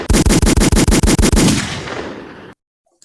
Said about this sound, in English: I'm gonna give you some gunshots though for that.